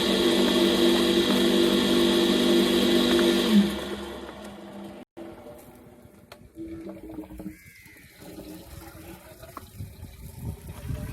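Water from a motor-driven water pump gushes loudly and steadily for a few seconds, then stops abruptly, leaving quieter splashing, drips and faint background sounds.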